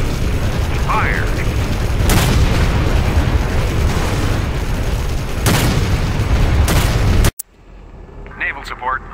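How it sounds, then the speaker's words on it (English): Offshore naval artillery fire in the C&C Generals Zero Hour strategy game: loud sustained battle rumble with several sharp heavy booms spaced a few seconds apart, then a sudden cut to quieter ambience with brief chirping unit sounds. "Offshore artillery. Clear those targets."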